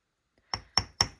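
Three sharp metallic hammer strikes, evenly spaced and close, on a bent wire eighth-note shape, each ringing briefly, with no talking.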